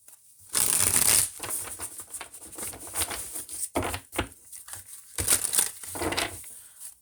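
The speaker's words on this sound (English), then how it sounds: "let's go ahead and pull some cards." Tarot cards are shuffled close up in a run of papery riffles and slaps, with louder bursts near the start and end and quieter handling between, no one speaking.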